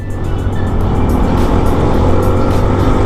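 Rusi Adventure X 150i motorcycle engine pulling hard uphill, a loud, steady droning roar with heavy wind buffeting, close and continuous with no talking.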